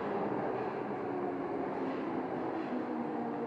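An unrenovated Tokyo Metro 02 series subway train hums and rumbles steadily at Nakano-sakaue station on a branch line, a continuous, moderately loud drone with no talk.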